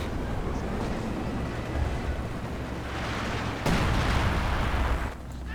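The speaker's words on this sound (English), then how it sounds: "Sounds like a Werfer went down to maybe an artillery strike." A muffled artillery strike hits a German Werfer rocket launcher in Company of Heroes 2, with a rumbling battlefield bed and one sharp, louder impact burst partway through.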